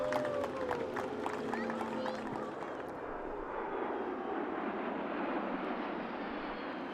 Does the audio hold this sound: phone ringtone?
no